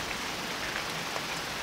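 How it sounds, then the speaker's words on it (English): Wet, drizzly winter rain in an urban homestead backyard, a steady even hiss of drops on surfaces, continuous and close with no voices. "In the wet, drizzly rain at the end of the 2017 year."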